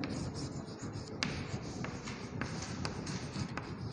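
A pencil writes an answer on paper, soft scratchy strokes with a few light taps, close and continuous under a faint background hum.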